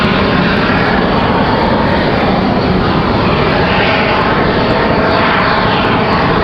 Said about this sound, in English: JetBlue from JFK, another A220